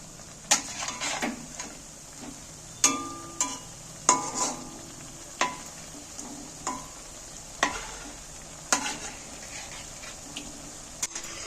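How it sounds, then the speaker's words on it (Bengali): Palm fruit fritters fry in hot oil for a Janmashtami sweet, a soft bubbling sizzle broken by a dozen or so sharp clicks and scrapes from a utensil, evenly spaced, with no talking. "এবার বাকিগুলো ফের কিন্তু আমি তুলে দিচ্ছি তেলের মধ্যে"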